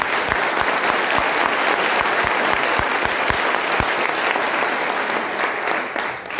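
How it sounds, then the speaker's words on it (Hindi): A crowd at a motivational business seminar breaks into loud, sustained clapping, a thick wash of many hands with a few heavier thumps near the start, fading slightly at the end. "एक बार जोरदार तालियां"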